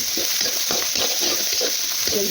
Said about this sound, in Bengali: পেঁয়াজগুলো লাল লাল করে ভেজে নিয়ে আসে